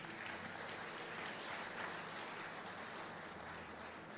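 A church congregation at an evening service applauds the Lord. The crowd's dense, continuous clapping sounds distant and faint, without any voice over it.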